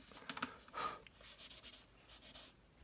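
An eraser rubs over paper in a pencil drawing of water droplets, producing faint, close scratchy strokes in short repeated bursts that grow into a quick rhythmic series toward the end, with no talking.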